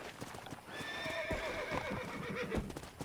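Horse hooves clip-clop steadily in the Red Dead Redemption western video game, with a horse's whinny rising over the continuous trotting, moderately loud and without talk.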